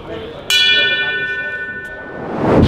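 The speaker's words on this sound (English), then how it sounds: "As we pay tribute in traditional boxing style with the 10 bells." A bell rung as a traditional ten-bell boxing tribute, one loud clear strike that rings and slowly fades, with a low murmur of voices toward the end.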